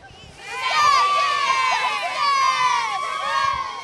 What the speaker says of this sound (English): you all want to hit a little cheer for City TV, the city of Douglasville? Give us something